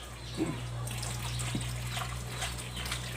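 Ingredients for Thai fried snail cakes being rinsed clean in water, a steady trickling wash with a few splashes and bumps over a constant low hum, no voices.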